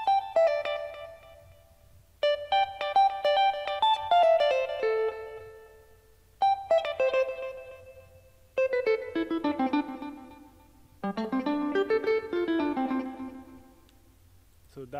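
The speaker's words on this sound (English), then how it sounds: "This is like a solo guitar, which sounds like this." Solo guitar part from an Afrobeat beat, bright plucked melodic phrases in repeated bursts with ringing notes, clear and alone with no talking.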